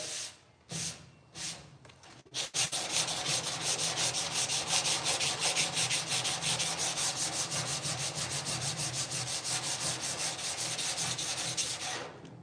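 Block sanding a 1968 C10 truck door: a few separate scraping strokes at first, then steady rhythmic back-and-forth rasping of the sanding block across the metal panel, close and continuous.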